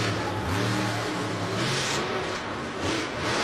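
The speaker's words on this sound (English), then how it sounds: "the gearing sounds a little bit different than that, or the chip that they have in that engine is a little bit lower in RPM" Monster truck engine at a Monster Jam freestyle event in Atlanta revs hard and continuously, a loud low roar rising and falling in pitch over steady crowd-level background noise.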